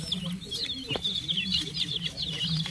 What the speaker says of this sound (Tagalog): Sisiw